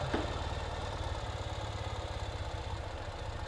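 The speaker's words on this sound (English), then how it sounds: "This one has a new style fuel injection, so you can see how it idles nice and smooth." A 2019 Ural Gear Up motorcycle with fuel injection idles close by, giving a steady, even low-pitched throb with quick regular pulses and no voices.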